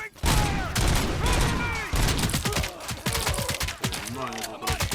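Rapid gunfire bursts in the Robocop video game, loud and dense, with sustained automatic fire over a noisy battle mix and shouted game voices layered on top.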